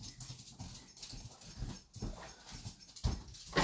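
Dog whimpering and shuffling indoors as it is put out of a room, soft, close whines and movement repeating in short bursts over a few seconds.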